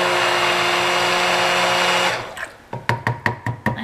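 A stick blender whirs steadily while mixing cold process soap batter, then cuts off and is followed by a quick series of sharp taps and knocks, close and with no talk.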